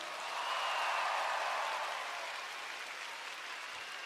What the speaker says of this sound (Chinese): 希望用你的掌声多谢我们舞台上所有表演的朋友